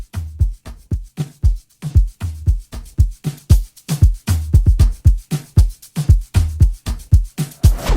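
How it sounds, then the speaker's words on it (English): A layered drum beat built in FL Studio, with kick, percussion loop and shaker loop playing together in a steady, punchy rhythmic pattern, loud and alone without any voice. "Our drums all together sounds like this."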